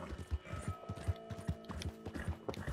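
Hooves clip-clop in a quick, steady rhythm as a horse gallops in the Red Dead Redemption 2 video game, the beats close and even, with faint voice and game sounds mixed underneath.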